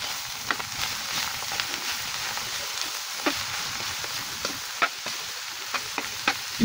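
Dinuguan with banana heart stirred in a hot pan, giving a steady close sizzle with scattered scraping taps of a spoon throughout.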